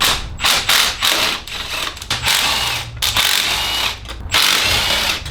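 Bolts being removed from a junkyard Subaru STI part with a ratchet, a loud, close series of rapid clicking bursts separated by short pauses, with no talking.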